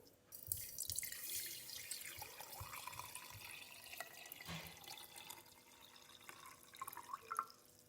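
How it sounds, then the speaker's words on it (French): Water running into a jar holding a tablespoon of sprouting seeds, a steady trickling pour with dripping and splashing for several seconds, close by and moderately loud, with no one talking. "Vous remplissez d'eau."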